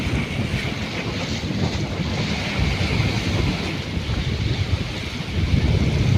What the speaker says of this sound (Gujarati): જો પાછળ દરિયો છે.